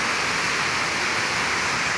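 Steady, full roar of a waterfall heard at close range, a continuous broadband rush of falling water with no talking over it.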